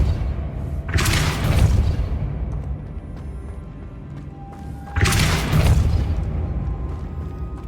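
The Depulso force spell is cast twice in the Hogwarts Legacy video game, each time a loud, booming blast with a rushing burst that fades slowly before the next.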